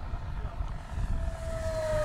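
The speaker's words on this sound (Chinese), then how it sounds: "顶风全油门。" A Flightline Velocity 950 RC flying wing passes at full throttle into a headwind, its electric motor and propeller whining as a rising tone over wind buffeting, fairly faint and distant.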